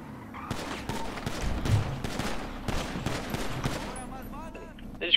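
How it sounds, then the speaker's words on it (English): Rapid bursts of gunfire from a GTA roleplay shootout crackle through the scene in quick volleys, loud and close, with voices talking over the shots. "they fucking shooting at me"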